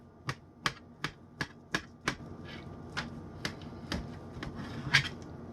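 Knife slicing through crockpot-cooked corned beef across the grain, heard as a series of crisp, close taps against a board, regular at first and then softer and more spaced out, in a quiet room.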